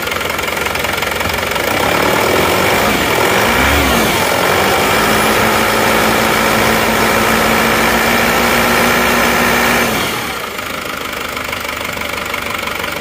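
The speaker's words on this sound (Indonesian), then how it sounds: "Stasionernya ini mesin dengan rotor head R13 seperti ini." An Isuzu Panther LS diesel engine with an R13 rotor head idles close by, a steady knocking diesel clatter with a brief rev near the start before settling, then fading slightly at the end.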